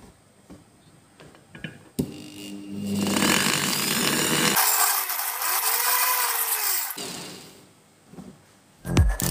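A rotary grinder cutting metal on a two-stroke cylinder port, a high scraping whine that rises and falls over several seconds between short clicks and handling knocks, close and fairly quiet.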